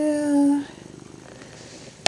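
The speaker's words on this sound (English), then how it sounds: "Can you hear him purring?" A cat purrs close by in a soft, rhythmic rumble with even pulses, following a brief high whine at the start and ending with a sharp click.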